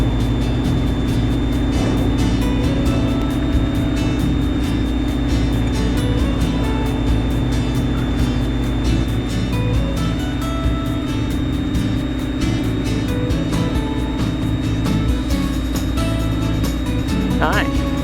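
Steady, loud drone of an auto-engine conversion in a Vans RV-10 aircraft held at high revs on the takeoff roll, a continuous engine roar with faint talk mixed in.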